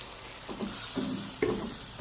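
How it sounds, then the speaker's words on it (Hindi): About half a cup of water goes into a pan of spiced masala that has been fried until the oil separates, giving short bursts of splashing and sizzling at close range with no one talking. "तो ये हम इसमें थोड़ा सा 1/2 कप के करीब पानी डालेंगे।"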